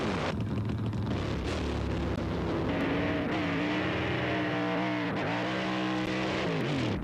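Supercomp drag race cars at the West Australian round of the Australian championship roar down the strip, a loud continuous engine blare with rising and falling pitch sweeps as the cars accelerate past.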